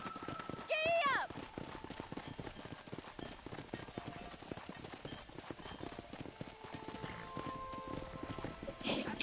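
Horse hooves clip-clopping at a fast gallop in the Red Dead Redemption video game, a continuous rapid rhythm near and moderately loud, with a brief whinny and a spoken shout near the start.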